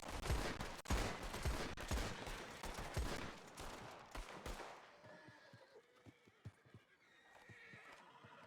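A group of players fire guns together in Red Dead (WildRP): a dense burst of rapid overlapping gunshots for about five seconds, then scattered distant pops over a quieter background, with horse sounds mixed in.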